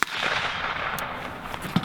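A rifle fitted with a Surefire SOCOM556-RC2 suppressor fires outdoors. Each shot is a sharp, muffled crack, and a few quick reports sit over a broad, noisy background.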